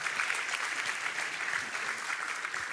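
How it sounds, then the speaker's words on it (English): A conference audience at KubeCon Europe gives the speakers a loud round of applause, thick and continuous clapping from many people that holds evenly from start to finish. "big round of applause for them."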